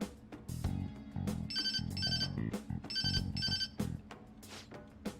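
A phone rings in Persona 5 Royal on PS5, a bright repeating electronic ringtone pulsing in regular bursts over a game music backdrop, loud and close with no talking.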